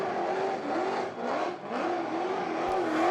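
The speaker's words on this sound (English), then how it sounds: "You can hear him feathering it a little bit, but not really on and off." A burnout car at an Australian burnout competition revs hard and steadily for three seconds, engine note wavering slightly as the throttle is feathered, loud and continuous with crowd noise blended underneath.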